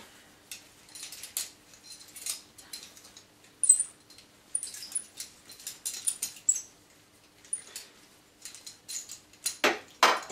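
A pipe cutter turning around a copper tube makes faint, irregular metallic ticks and small squeaks that repeat in short clusters, ending in a louder scraping burst.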